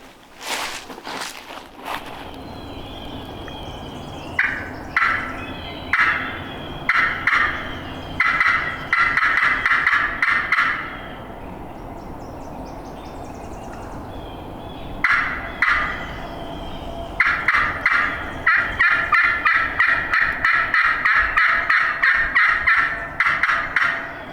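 A wild turkey gobbles repeatedly in the hills, a string of loud, rattling bursts in two clusters separated by a pause, carrying clearly through the open woods.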